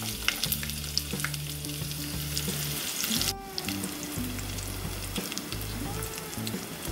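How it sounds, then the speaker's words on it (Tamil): Chillies and onion hit hot oil for a ridge gourd and egg stir-fry, giving a close, steady crackling sizzle broken by a few stirring scrapes, moderately quiet and with no voices. "இப்போ இந்த ஸ்டேஜில் நம்ம எடுத்து வச்சுருக்க வர மிளகாய் வெங்காயத்தை எண்ணெயில் சேர்த்துடலாம்."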